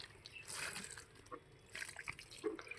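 Water poured onto a rooftop garden soil bed being prepared for growing ginger, elephant foot yam and taro, giving irregular close splashing and trickling bursts with soft drips in between.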